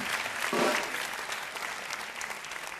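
A Turkish television talk show studio audience breaks into applause, swelling quickly near the start and then tapering into a sustained patter of clapping.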